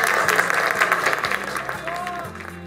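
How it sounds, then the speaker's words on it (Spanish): Students on a webinar get a round of applause, a steady patter of clapping under background music and a voice. "Verse un aplauso."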